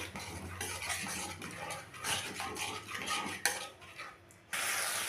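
A spoon stirs a thick mix of yogurt, cashew paste and melon seed paste in a pan for cauliflower roast, giving uneven scraping and soft clinks over a steady low hiss, with no talking.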